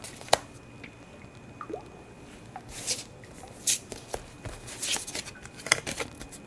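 Tarot cards are drawn from a deck, giving scattered soft slides, flicks and light taps of card stock against a quiet room, with no talk.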